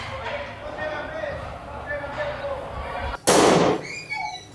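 A loud, sharp burst of gunshots erupts inside a school classroom in Mendoza, Argentina, after steady background chatter and noise, followed by echoing reverberation and continuing voices.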